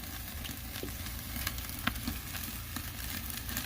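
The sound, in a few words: ribeye steak searing on Oklahoma Joe's Highland grill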